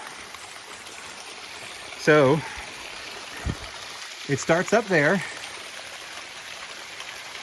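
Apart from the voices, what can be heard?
small cascade waterfall flowing down a rock crevice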